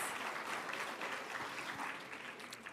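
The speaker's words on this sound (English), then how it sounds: "Give yourselves a big round of applause." A crowd of student STEM finalist teams at a national showcase applauds themselves, sustained dense clapping from many hands that holds steady, then eases slightly toward the end.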